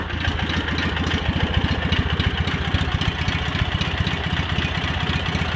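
A Cub Cadet 782 garden tractor engine runs close by at a steady idle, its rapid, even low pulses chugging loudly and continuously without any talk.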